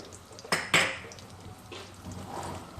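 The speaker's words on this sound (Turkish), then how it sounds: "Şöyle bir karıştıralım malzemelerimizi" Metal utensils clink and scrape against a pot a few times, with a couple of sharper knocks, then soft stirring sounds fade out as peas, chopped garlic and olive oil are stirred.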